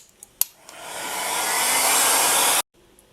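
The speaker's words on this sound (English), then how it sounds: "I'm going to be using a heat gun on its lowest setting just to quickly dry it." A heat gun on its lowest setting blows over polymer clay to dry it: a few light taps, then a steady, close airflow roar that rises and holds for about two seconds before cutting off abruptly.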